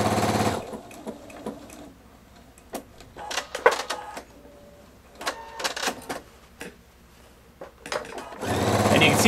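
A Pfaff Performance 5.0 sewing machine stitching fast under foot-pedal control, a loud, close, rapid mechanical chatter in several bursts with short pauses, the motor whirring in between; no talking.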